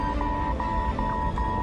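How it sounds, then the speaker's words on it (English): A repeating cockpit warning tone sounds in a large airliner as it nears a stall, short steady beeps recurring about every 0.4 seconds over a constant low engine and cabin rumble. "there's another alarm"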